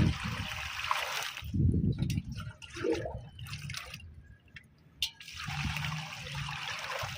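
Water poured into a sack of coco peat for potting mix, bursts of splashing and trickling with gurgles in between and a short pause near the middle, close by and alone.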